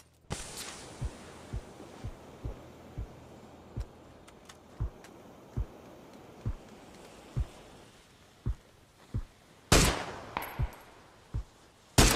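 Gunfire in the video game PUBG: a steady series of single shots at a moderate pace, each a sharp crack at middle distance, then a louder nearer burst toward the end.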